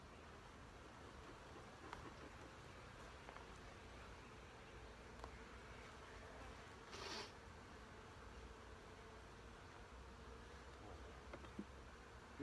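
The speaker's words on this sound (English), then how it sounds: "these bees are not happy with me right now" Honeybees buzz faintly and steadily during a first hive inspection, with burr comb being scraped off the tops of the frames, the low drone holding throughout with a brief rustling burst midway.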